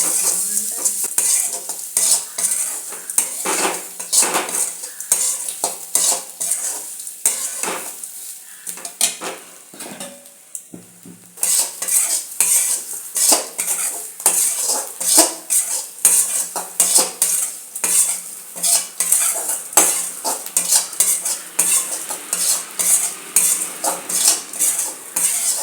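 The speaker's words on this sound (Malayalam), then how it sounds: "അതിന് വേണ്ടിയിട്ട് തേങ്ങയും ചുവന്ന മുളകും വറുക്കാൻ പോവുകയാണ്" Grated coconut and red chillies are dry-roasted in a pan for a spicy Kerala-style squid curry, with a spoon scraping and clattering against the metal in steady repeated strokes over a faint sizzle and no talk.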